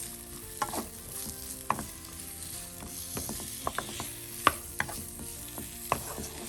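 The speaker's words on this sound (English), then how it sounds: "We're going to saute these for a few minutes in a tablespoon of oil." Onions and peppers sauté in a tablespoon of oil in a pan, a steady close sizzle broken by repeated sharp clicks and scrapes of stirring, with no voices.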